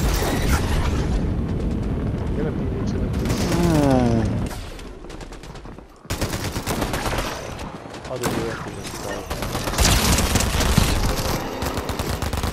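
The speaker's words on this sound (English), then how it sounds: "there's people shooting over my way." Fortnite gunfire crackles in dense bursts throughout, loud and busy, with voices talking over the shooting in the middle of the action.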